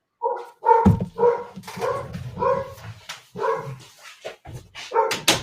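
A dog barks repeatedly and loudly close by, a run of about eight sharp barks in an uneven rhythm with no talking over them.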